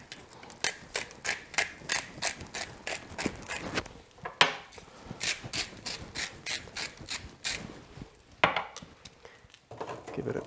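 A hand grinder cracks pepper and salt over asparagus in quick, rhythmic ratcheting crunches, close and steady with a few short pauses.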